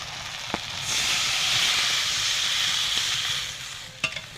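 Water poured into hot oil in a pan while cooking tilapia in mustard sauce, bursting into a loud steady sizzle and hiss that holds for a few seconds, with a couple of sharp utensil clicks before and after.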